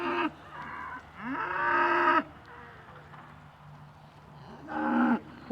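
Cattle moo loudly and close by: two long drawn-out calls in quick succession, a pause, then a third, with no talking.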